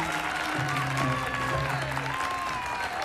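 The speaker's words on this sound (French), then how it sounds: "On vous applaudit." Applause for a music performance, a crowd clapping steadily and densely throughout, with sustained tones and a few voices mixed in beneath.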